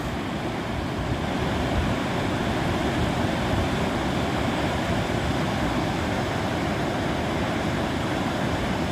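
A dangerous river in Lupi, Camarines Sur runs with a strong current, a loud, constant close roar of rushing water with no voices.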